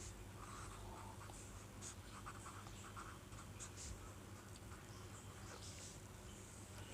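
Continuous faint scratchy strokes of writing on a board, short rhythmic bursts over a steady background hiss.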